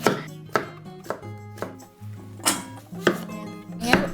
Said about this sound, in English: I'm gonna chop up some salad and a gigantic carrot.